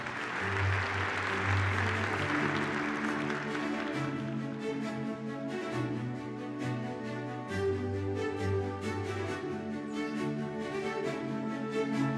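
Steady applause from an audience at a Turkish presidential culture and arts awards ceremony, sustained throughout, with music playing over it.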